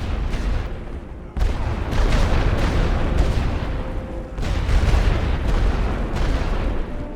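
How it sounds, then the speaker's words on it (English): An artillery barrage shelling on the Western Front in a Great War video game, with dense overlapping booms and rumbling blasts in rapid succession, loud and sustained throughout. "More barrages on the way, softening up the enemy."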